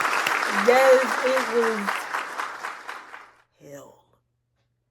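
Burst of applause starts loud under a talking voice, then fades out over about three seconds, followed by a brief spoken reply before silence.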